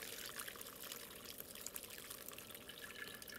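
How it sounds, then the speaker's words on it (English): Sarsaparilla beer pours through a fine mesh strainer into a coffee filter, giving a steady, soft trickle of liquid that runs unbroken and faint, with no voices. "I'm going to filter it first through another fine mesh strainer so that we don't gum up the coffee filter completely."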